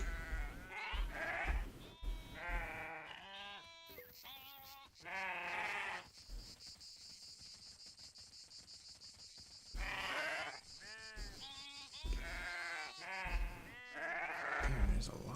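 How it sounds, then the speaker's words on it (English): Several goats in the video game The Great Circle bleat repeatedly in overlapping calls, fairly close, with a high steady hiss in the background between bursts. "Damn, there's a lot of goats over there."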